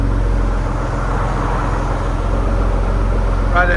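A Ford Explorer ST with a 3.0L twin-turbo V6 idles close by, a steady, even low drone that holds throughout, with a brief higher tone near the end.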